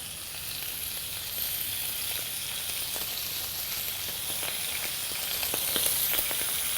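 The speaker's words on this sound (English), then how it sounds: "What I'm going to do is drop the squid into a really hot pan and putting them scored side down." Squid pieces dropped scored side down into a really hot pan sizzle and fry in a steady, bright hiss, close up, with faint crackles popping through and no voices.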